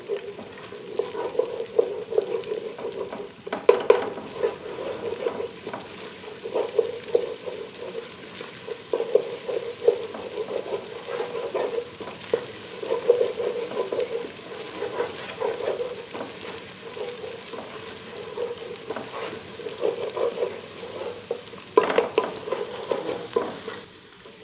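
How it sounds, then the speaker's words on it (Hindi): A spoon stirs vegetable rice in a hot pan, scraping and turning with a steady sizzle of frying underneath, close and continuous with no talk. "चम्मच को अच्छी तरह चलाएंगे"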